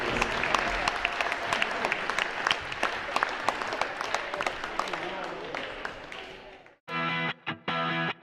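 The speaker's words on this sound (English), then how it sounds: "give one more round of applause for all of our seniors" A gym crowd at a girls' varsity high school basketball game applauds warmly for the seniors, dense clapping and cheers sustained for several seconds before cutting off into a loud burst of distorted, buzzy electronic sound.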